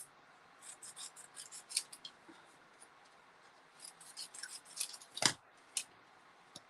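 Scissors trimming craft tape during card making, a quiet series of short snips and rustles spread unevenly across the clip, close and alone.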